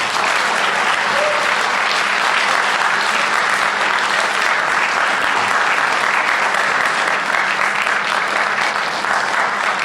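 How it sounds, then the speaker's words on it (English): Sustained audience applause at a senior jazz concert, dense and steady clapping filling the room at full volume for the whole stretch with no talk over it. "give him another warm round of applause for coming and joining us today"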